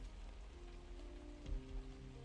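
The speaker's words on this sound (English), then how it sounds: "This ever familiar rain is what makes me feel alive." Rain falling in the video game Arknights, a steady, soft patter on surfaces heard alone and without voices, at a low and even level across a short stretch.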